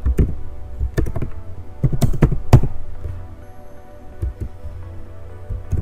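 Computer keyboard keys tapped in quick, uneven bursts while entering a MySQL server admin password, with crisp close clicks and short pauses between runs.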